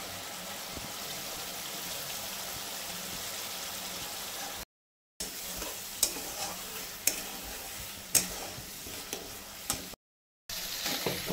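A tomato and spice paste fries in oil and is stirred, a steady close sizzle with sharp periodic clicks and scrapes of the spoon, briefly interrupted by two silent gaps.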